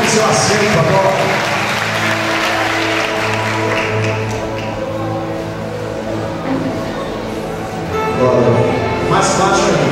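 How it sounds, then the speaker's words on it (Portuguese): Congregation applauding during an evangelical church service, steady broadband clapping that lasts the whole stretch, swelling again near the end, over sustained background music and voices. "Dê uma salva de palmas para Jesus"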